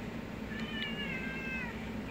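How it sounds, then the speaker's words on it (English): A kitten's drawn-out, thin meow rises over a steady indoor background hum, a single fairly faint cry lasting about a second, with no talking. "Literally, all the kitties are over here, except aside from Mama Cat."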